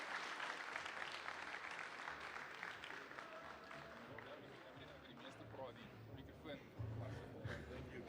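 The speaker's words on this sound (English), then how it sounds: "Ladies and gentlemen, round of applause." Applause from a conference audience at the South African Funeral Industry Summit, a continuous spread of clapping heard faintly and at a distance, mixed with crowd murmur and voices talking over it.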